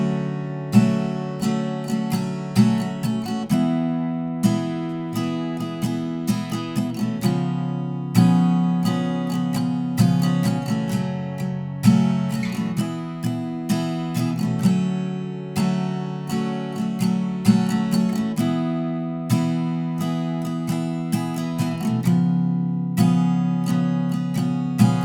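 Guitar strums the chorus chords of a song, a steady rhythmic strumming pattern with sustained chords, played alone at moderate loudness without talking.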